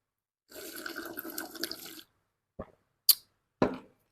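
Water pours into a cooking pot for noodles in a splashy gush lasting about a second and a half, followed by a few short separate splashes and knocks.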